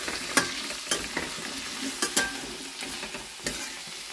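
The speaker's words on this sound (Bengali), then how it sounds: "ভালো করে ভাজি।" Mixed vegetables fry in a pan with whole cumin, dry red chillies and bay leaf: a low, constant sizzle broken by sharp spatula scrapes and clacks at irregular intervals, close up and without speech.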